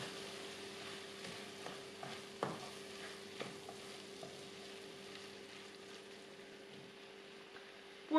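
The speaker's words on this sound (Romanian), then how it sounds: "Amestecăm puțin." Mushrooms and tomato broth for a vegan stuffed-pepper filling sizzle quietly and steadily in a pan, with soft stirring scrapes and small clinks now and then. No one speaks.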